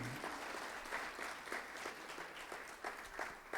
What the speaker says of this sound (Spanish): Y eso merece una ofrenda de palmas al Señor.